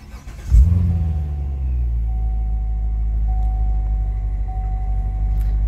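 A 2014 Corvette Stingray Z51 2LT fires up with a sharp, loud crank and bark, then settles into a deep, steady idle rumble close by, with no talking over it.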